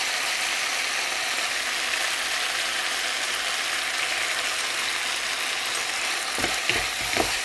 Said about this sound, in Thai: นี่ค่ะทุกคนผัดทุกอย่างคลุกเคล้าให้เข้ากัน